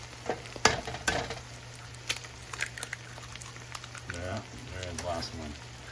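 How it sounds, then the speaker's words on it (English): Ground beef frying in a pan crackles and sizzles while a utensil scrapes and stirs it in sharp irregular strokes, close up, with a voice talking toward the end. "Just keep stirring."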